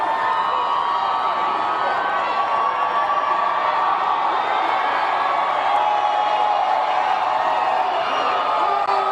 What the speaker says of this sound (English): Can you hear the crowd?